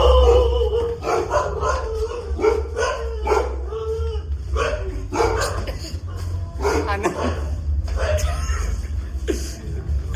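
Dog barking and howling at close range in a house setting, with voiced cries recurring through the stretch, partly mixed with people talking nearby and a steady low hum underneath.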